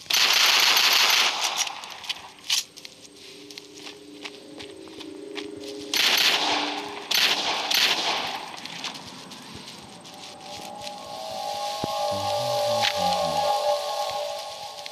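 Rapid bursts of gunfire from shooting zombies in Into The Dead 2, loud clustered volleys with short pauses, mixed with game sounds and tonal music cues toward the end.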